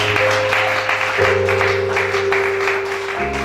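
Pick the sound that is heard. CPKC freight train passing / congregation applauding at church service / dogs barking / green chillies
congregation applauding at church service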